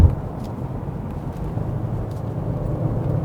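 A 2020 Genesis G70 sedan rolls through a corner, a low, even hum of road and engine noise heard from inside the cabin, steady and subdued with no talking.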